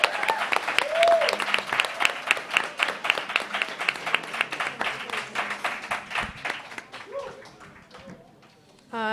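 An audience at a youth justice summit applauds the panelists with a loud, sustained round of clapping that tapers off toward the end, followed by a few faint voices and a brief burst.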